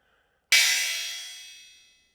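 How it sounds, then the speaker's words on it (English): A single crash cymbal sample is struck once, bursting in with a bright, loud, noisy wash that rings and decays smoothly over about a second and a half, heard alone. "this crash has a lot of power along a lot of frequencies in the high range above 1K"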